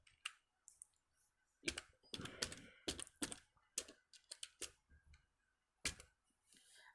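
Keys on a computer keyboard clatter in uneven bursts of quick taps with short pauses between, close and fairly quiet, while text is written into a Word document.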